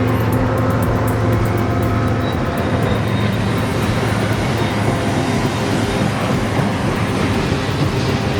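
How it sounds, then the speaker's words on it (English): Freight train of aging coal cars hauled by GP15 locomotives, with no pusher units, rumbling past in a steady, loud, continuous roar of wheels and engines throughout, with no talk. "These aging coal cars and GP15 locos might be on their final ride to the scrapyard."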